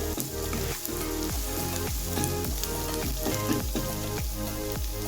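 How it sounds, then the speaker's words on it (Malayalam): Chopped onion and green chillies fry in a pan for a drumstick-flower thoran, giving a steady close sizzle broken by repeated stirring scrapes and clicks, with no voice. "ഉള്ളി ഒന്ന് വഴണ്ട് വന്നിട്ടുണ്ട് കേട്ടോ, ശരിയായിട്ട് വന്നിട്ടുണ്ട്. അപ്പം ഞാനൊരു 3 പച്ചമുളക് ഇതിൽ ഇട്ട് കൊടുത്തിട്ടുണ്ട്"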